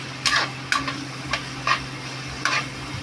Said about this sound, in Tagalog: nagigisa po natin ngayon yung ating atay balon-balunan